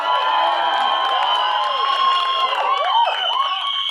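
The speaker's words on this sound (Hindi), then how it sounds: "सीटियां तालियां खुद ही बज जाती है" An audience at a Mumbai PVR cinema trailer launch whistles, cheers and applauds in a loud sustained wave, shrill whistles sliding above steady clapping and crowd roar.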